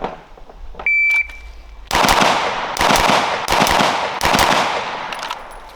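Gunshots fired with an upgraded trigger, five loud sharp shots spaced roughly a second apart after a brief electronic beep, close and echoing.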